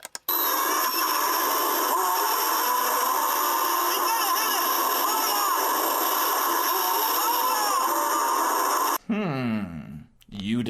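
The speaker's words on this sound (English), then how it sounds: "this is the sound of that shark from Jaws: The Revenge" The shark roar effect from the film Jaws: The Revenge, a harsh, sustained grinding wail with shifting squeals, loud and steady for about nine seconds before it breaks off into a brief swirling tail.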